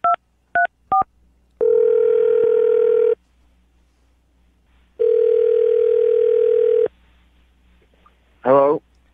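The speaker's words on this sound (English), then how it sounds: "I'm going to dial the phone number right now" A telephone number is dialed with three quick touch-tone beeps, followed by two long electronic ringback tones separated by silence and a brief voice at the end.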